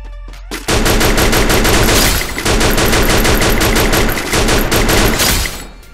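Rapid, loud gunfire from a shotgun in a video game, bursts of dense shots repeated in quick succession with brief gaps, heard alone.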